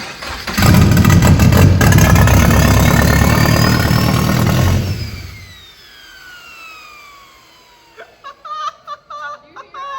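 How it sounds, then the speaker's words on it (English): A Subaru BRZ fitted with a big turbo cranks and starts, then runs loudly for about four seconds before shutting off. A whistling turbo whine winds down afterward, followed by brief bursts of nearby talk. "Start it up for literally like 5 seconds and then turn it off. I just want to hear this freaking turbo, man."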